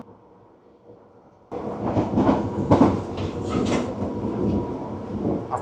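A London Underground Bakerloo line train rumbles and rattles loudly after a sudden jump in noise, with rhythmic clatter and shaking carriage sounds close by.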